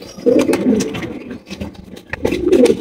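A pair of young pigeons at a pigeon farm coo back and forth, with soft, throaty, rolling bursts near the start and again at the end, close by and clear, with no talk.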